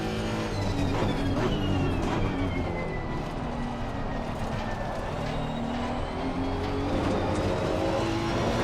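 A race car driven in Assetto Corsa Competizione at the Kyalami circuit, engine loud and close with rising and falling revs through gear shifts, steady throughout, with a faint voice underneath.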